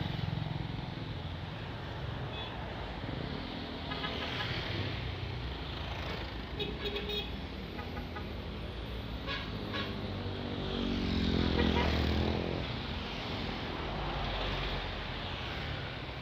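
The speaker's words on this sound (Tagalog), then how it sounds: "Daming motor." Steady drone of many motorcycles passing, a continuous traffic roar that swells slightly midway, with no clear speech.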